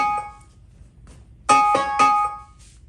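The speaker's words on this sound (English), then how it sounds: "I'm going to turn the alarm bell on" A Sharp interactive whiteboard's countdown timer alarm chimes twice in quick succession, bright and clear with lingering ringing tones, after a faint quieter chime.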